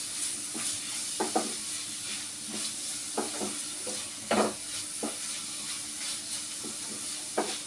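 Vegetables frying in a pan and being stirred, with eggplant about to go in: steady close sizzle with scattered scraping and clinking stirs, no talking.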